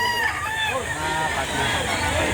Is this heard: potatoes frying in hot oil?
no